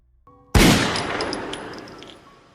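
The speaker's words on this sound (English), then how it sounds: "Bud slowly points the gun at the painter before sticking it under his own chin and pulling the trigger" A single loud, close gunshot from a man firing under his own chin, a sharp blast that rolls into a long decaying echo with faint ringing tones over it.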